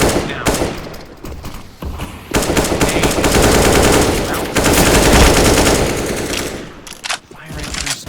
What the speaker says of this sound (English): Firing through smoke, dude.